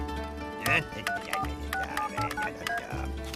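Keypad tones from a telephone being dialed in a French animated cartoon, a quick series of short beeps over busy background music and sound effects, fairly close and moderately loud.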